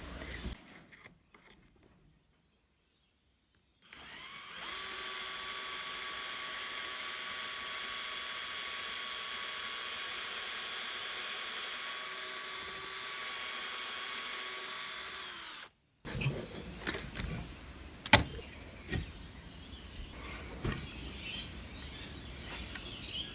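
A drill with a standard drill bit whines at a steady pitch for about twelve seconds while drilling pocket holes, then stops abruptly, followed by scattered clicks and handling noises.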